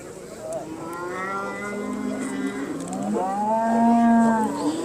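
Simmental cattle at a show bellow in long, drawn-out moos, two strong calls rising and falling close by over a hum of background noise.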